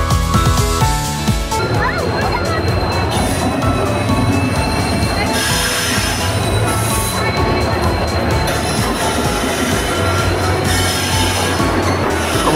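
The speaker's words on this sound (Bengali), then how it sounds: "ট্রেনও যথাসময়ে ঢুকে গেছে।" The Puri Superfast Express, a passenger train, pulls into a station platform at night with a loud, continuous rumble of wheels and carriages and sharp metallic squeals rising over the din.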